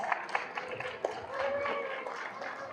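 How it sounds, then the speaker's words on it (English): Young men at a high school event give a round of applause, a steady mid-level clatter of many hands with a few sharper claps near the start, while voices carry on faintly underneath. "let's give Dr. Chacon a round of applause."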